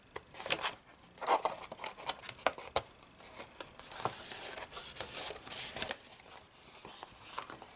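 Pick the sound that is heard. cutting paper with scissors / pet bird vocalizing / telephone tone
cutting paper with scissors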